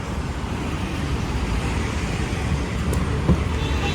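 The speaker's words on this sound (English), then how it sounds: "the exhaust note is just glorious from that naturally aspirated V12 engine" Naturally aspirated V12 of an Aston Martin DB9 producing a steady, loud broadband exhaust drone, continuous and close with no talk over it.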